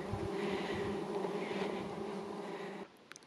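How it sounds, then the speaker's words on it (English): Dense, continuous buzzing from thousands of flies swarming in the Atacama Desert, steady and loud for most of the clip before dropping off abruptly near the end. "Do you guys hear the buzzing? Yeah, thousands and thousands of desert flies."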